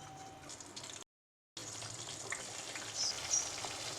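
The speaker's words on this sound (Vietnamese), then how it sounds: "Bây giờ thì mình sẽ cho chả vào chiên." Spring rolls sizzle in hot oil with a continuous hiss, broken by a brief silence before the frying resumes, a little louder, with small pops.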